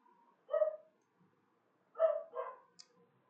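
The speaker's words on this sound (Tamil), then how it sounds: "என் சைடு தான் நாய் கத்துது." A dog barks nearby in three loud bursts, a single bark followed after a pause by two quick ones, with quiet between them and no talking.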